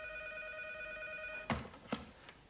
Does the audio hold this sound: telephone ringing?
yes